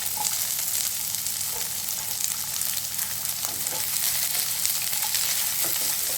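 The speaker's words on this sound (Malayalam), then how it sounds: "എണ്ണയും ചൂടായിട്ടുണ്ട് നമ്മൾ അരിഞ്ഞു വെച്ചിരിക്കുന്ന ചെറിയ ഉള്ളി അതിലേക്കൊന്നിടാം" Chopped small shallots hiss in hot oil while a snake gourd theeyal is cooked, giving a dense, loud, unbroken sizzle with faint crackles throughout and no voices.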